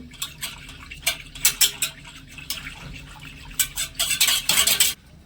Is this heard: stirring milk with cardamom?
yes